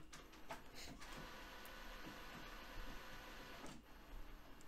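A printer runs quietly, giving a steady mechanical whir broken by a few brief clicks and clacks, the loudest near the start and again toward the end.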